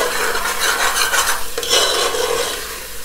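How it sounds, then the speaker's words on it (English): A spoon stirring egg curry (enda bhuna) in a pot, loud close scraping and sloshing strokes over a light sizzle, lasting about three seconds with no speech. "So I'm just going to give one stir"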